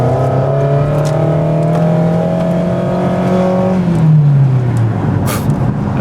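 A Toyota Highlander with clogged catalytic converters accelerates at full throttle, heard loud and close from inside. The engine drones and climbs steadily in pitch, then drops sharply near the four-second mark like a gear change before pulling on.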